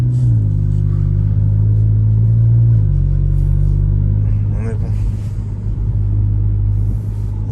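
A Rolls Royce engine gives a steady, loud low rumble and soft purr from inside the car while driving, with someone talking over it throughout.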